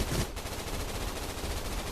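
Rapid gunfire in the video game Gun Raiders, a dense burst of shots after a brief louder hit, heard without speech over steady game noise.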